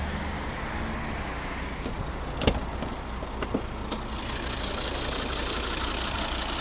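A 2010 Volvo XC60 2.4 D3 diesel engine idles with a steady, even hum throughout, with a few brief clicks and knocks, no voices heard.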